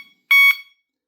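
One brief, piercing electronic chirp from a Teltonika GN8 vehicle alarm siren on disarming, loud and close, with silence before and after.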